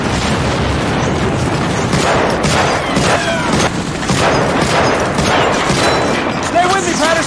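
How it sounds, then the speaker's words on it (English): Sustained gunfire and explosions from the Medal of Honor Frontline D-Day beach assault, dense overlapping bursts and booms filling the whole stretch without a break, with game voices shouting over the battle noise. "Stay behind me and keep shooting."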